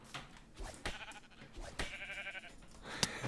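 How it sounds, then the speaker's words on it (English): Sheep in Minecraft bleating in short bursts among game effects, with a sharp hit near the end as the animal is struck and killed. "Oops, I accidentally killed that sheep."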